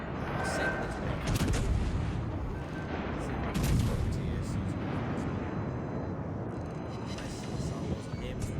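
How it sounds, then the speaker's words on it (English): Battleship main-gun salvos boom in World of Warships Legends, two heavy blasts rolling out over a dense rumbling battle bed with fading echoes. A voice talks over the action. "nice little salvos on him"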